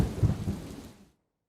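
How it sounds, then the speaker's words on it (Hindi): Torrential pre-monsoon downpour during a storm that also brought hail, a dense broadband roar of heavy rain with a low rumble, loud at first and then fading away to silence within about a second. "मूसलाधार बारिश के साथ यालाबारी भी हुई।"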